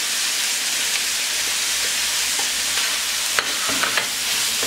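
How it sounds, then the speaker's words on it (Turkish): Parsley is stirred into minced meat filling frying in a pan, a steady close sizzle and hiss with a few scraping stir clicks toward the end. "Ardından maydanozumuzu ilave edelim."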